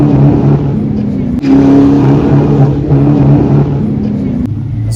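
A Ford Mustang Cobra Terminator engine drones and labors while accelerating, its tone stuttering and dropping out at moments as it breaks up, heard from inside the vehicle.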